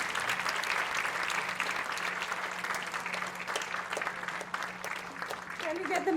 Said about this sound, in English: Audience, can we have a huge round of applause?